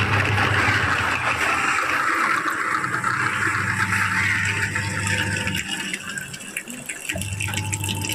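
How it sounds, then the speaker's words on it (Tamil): Water gushes out of a washing machine's drain hose in a steady rushing flow with a low machine hum beneath, close and fairly loud, easing slightly toward the end. "தண்ணி சவுண்டு கேட்குது பாருங்க."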